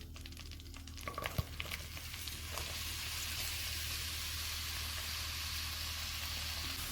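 Mango pieces fry in two spoonfuls of butter in a pan for a mango habanero sauce; after a few early clatters, a dense, even sizzle holds steady throughout.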